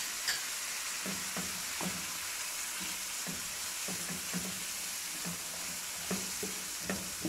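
Mashed potato frying with dry coriander, amchur powder and Multani masala, a soft continuous sizzle with irregular knocks and scrapes of a spoon stirring in the pan, no voices.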